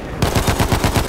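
Rapid gunfire in Battlefield 1 on the Sinai Desert Conquest map, with a steady train of sharp, loud shots repeating about every tenth of a second after a brief quiet start.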